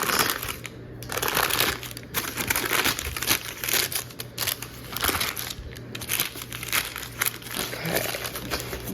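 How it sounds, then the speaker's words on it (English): Parchment paper crinkles and crumples close by as a white chocolate raspberry ice-cream pizza is lifted out of a springform pan, a steady rustling texture with intermittent sharper crackles and no talking. "So now I'm going to take it out of the spring pan and transfer it onto a plate."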